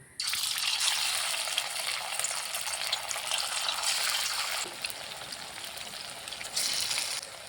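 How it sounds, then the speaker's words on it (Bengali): Suji and potato snacks frying in hot oil on a medium flame, a steady, dense sizzle that runs almost without a break and stays close and fairly loud throughout. "এবারে এগুলোকে এক এক করে ভেজে নেব"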